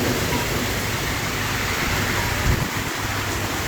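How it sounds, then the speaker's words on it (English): Heavy rain pours steadily through a night storm in Carlingford, a dense, even hiss with a low rumble and a brief thump partway through. "Don't know how much rain you can look at."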